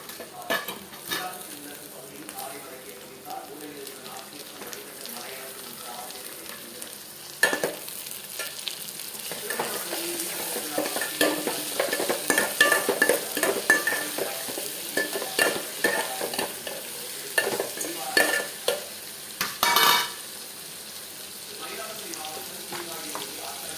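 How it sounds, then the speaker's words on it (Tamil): Tomatoes and onions sauté in a pan for a brinjal kara kulambu, making a continuous sizzle broken by frequent stirring clatters and scrapes that grow busier midway, with no talk over it. "வெங்காயம் வதங்கிடுச்சு, தக்காளி போட்டுக்கலாம்"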